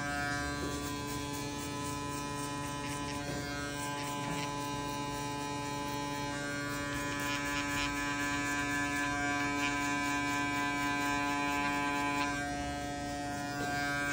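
An electric hair clipper set to a high zero guard cuts afro hair during a fade, humming and buzzing steadily up close for the whole stretch with no speech.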